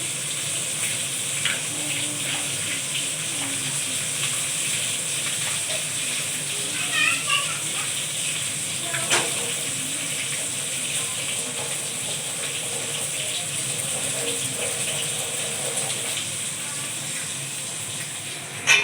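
Chopped onions frying in a hot pan in a home kitchen, giving a steady, close sizzle with a constant bright hiss that runs unbroken throughout.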